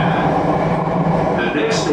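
A Jakarta MRT train runs along an elevated track, giving a loud, steady rolling rumble and hum from inside the car, with a brighter hiss rising near the end.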